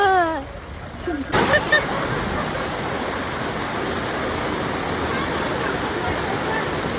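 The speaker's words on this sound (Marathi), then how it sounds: "इकडं जाम पाऊस आले तरी सुद्धा" Heavy rain pours in a constant, dense hiss that fills the scene, after a brief voice at the very start.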